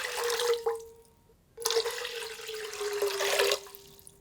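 Water pours from a tap into a cooking pot for making kombu broth, a steady splashing stream that stops briefly and then resumes, with no voices.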